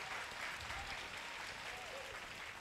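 An evangelical church congregation at a Sunday service claps together in praise of the Holy Spirit, a dense, steady wash of applause filling the room, with a voice faintly calling out beneath it.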